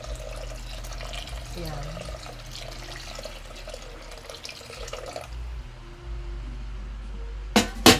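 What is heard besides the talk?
warm water being poured in for cooking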